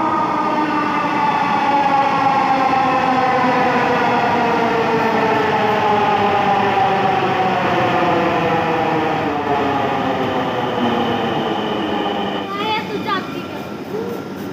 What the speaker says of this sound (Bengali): ট্রেন চলে আসছে, তাড়াতাড়ি করো।